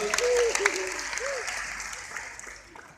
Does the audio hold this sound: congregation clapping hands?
yes